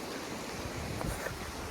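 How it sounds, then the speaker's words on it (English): Steady gusting wind at a spillway, roaring and buffeting the microphone in a continuous close rush with no voices. "Oh, really windy, so sorry."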